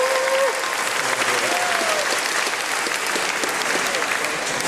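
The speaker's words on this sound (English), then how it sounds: "Let's give those folks one more round of applause." A large crowd in an Orlando amphitheater at a political summit applauds the speakers with loud, sustained clapping that fills the whole stretch, with a brief whistle or cheer rising near the start.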